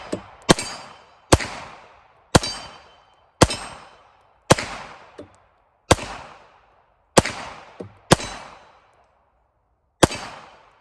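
A CZ-75 TS2 pistol fires at a target, loud close single shots with sharp cracks and ringing decay, about nine spaced at roughly one-second intervals, each standing alone without talk.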